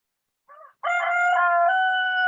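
A rooster crows loudly and close by, with a brief opening note and then a long, drawn-out call, no other sounds around it.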